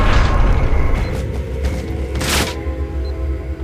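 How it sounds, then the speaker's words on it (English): Pistol gunshots from Max Payne 2, heavy booming reports ringing out with a long rumbling tail, one sharp bright crack near the middle standing out over the low, reverberant din. "the pistol sounds weighty as fuck in this game"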